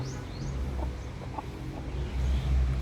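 Rhode Island Red chickens in a backyard, soft low clucks and murmurs over a steady background, close and moderate in volume.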